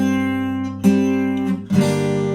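Fingerstyle acoustic guitar playing a phrase from the Tokyo Ghoul theme, with sustained ringing notes and two fresh plucked attacks partway through, close and clear with no talking.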